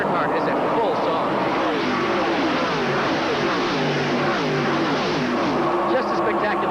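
NASCAR Winston Cup stock cars at the 1986 Champion Spark Plug 400, engines running near 7,800 RPM, blend into a continuous loud roar that holds steady throughout while a commentator talks over it.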